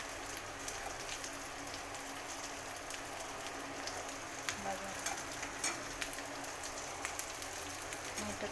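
Lentil fritter batter (vada) dropped into hot oil and frying, a steady dense crackle and sizzle like rain on a surface, moderately quiet and continuous, with no voice over it.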